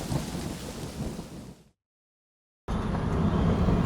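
Monsoon rain and rolling thunder in the dense Western Ghats forest on the road to Jog Falls: a heavy, continuous rumble with rain hiss, cut off by a sudden silence before the downpour returns just as loud.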